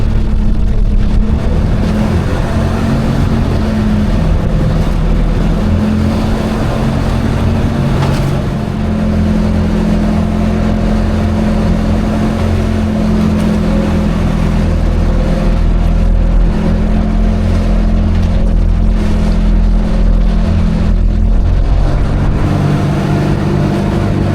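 Boat engine running near an island after a broken hose was being fixed, a loud, steady low motor drone that holds without a break, with no talk.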